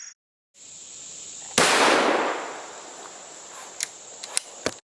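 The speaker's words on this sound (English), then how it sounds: "we found another squirrel, and John Parker had his gun up almost before I could get the camera ready" A single sharp, loud gunshot cracks out during a squirrel hunt in the woods, its blast trailing off over about a second, followed by a few fainter clicks and snaps, with no talk.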